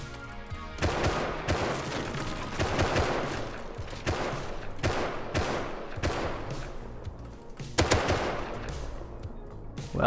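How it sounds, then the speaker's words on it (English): Automatic weapons fire in the survival video game Rust comes in repeated loud bursts and single cracks across the whole stretch, dense and close with brief gaps between volleys. "that shooting was bad"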